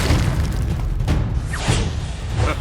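A cartoon explosion from a powerful yoyo gives a loud, rumbling boom with a dense, sustained roar and a few sharper bursts, filling the short clip.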